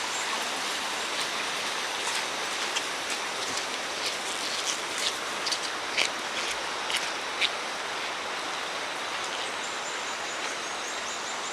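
Steady broadband rushing of water flows continuously, like a river stream, with faint scattered clicks and ticks on top and no voices.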